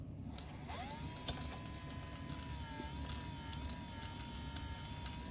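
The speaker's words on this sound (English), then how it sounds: "Noisy motor though." A noisy motor in a Sharp VC-489C VCR whirs steadily while spooling tape, a faint continuous mechanical drone with a rising whine and light gear chatter throughout.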